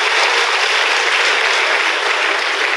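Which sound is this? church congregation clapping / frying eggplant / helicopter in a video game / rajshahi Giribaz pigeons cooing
church congregation clapping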